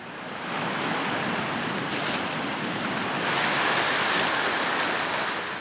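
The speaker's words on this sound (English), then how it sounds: "No man dares surf these waves." Ocean surf and strong currents at Rangiroa atoll roar steadily and loudly, a broad continuous wash of breaking waves with wind rushing over it and a swell building toward the end.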